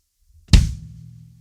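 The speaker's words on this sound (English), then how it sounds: "our bass drum is our kick drum" A single bass kick drum thump, punchy and close with a short low decay, heard on its own.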